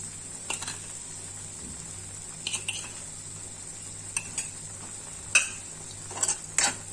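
Salted bean usal is stirred together in a pan, a faint steady hiss with sparse, soft clinks of the spoon at irregular moments, no voices.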